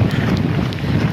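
Strong typhoon wind roars and buffets steadily throughout, a dense low rumble with no pauses, loud and close as it batters the microphone.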